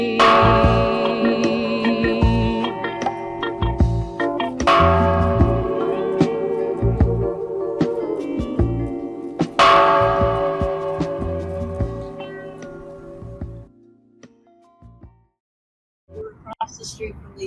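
The UN Peace Bell struck three times about five seconds apart, each loud strike ringing out in a long shimmering decay before fading to silence, followed by a brief scuffle of noise.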